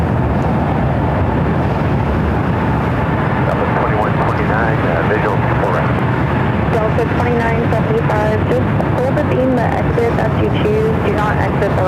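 A super jumbo airliner begins its takeoff roll at Los Angeles International Airport, a heavy, steady jet-engine roar filling the scene continuously, with airport radio chatter heard over the top.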